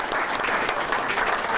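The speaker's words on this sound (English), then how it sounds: "Let's give students and their parents a round of applause." A school board of education meeting audience claps for students and their parents, a brief, steady burst of dense applause filling the room with no voices.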